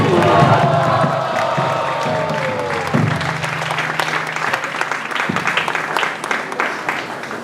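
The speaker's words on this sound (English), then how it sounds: "So please put your hands together with a loud Haribol for Niraj Prabhu." An audience applauds and cheers at a Hindu devotional festival celebration in Singapore, clapping swelling at first and then thinning into scattered claps, with some voices in the crowd.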